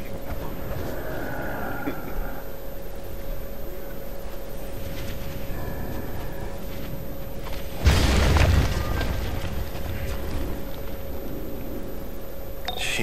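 A single loud boom from a blasting charge going off in the DC Universe Online video game, a sharp burst that swells and fades over a steady background game hum.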